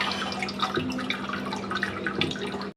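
Wheat bran being rinsed in water in a bowl, a continuous close splashing and trickling with small clinks, fairly quiet and steady before ending abruptly.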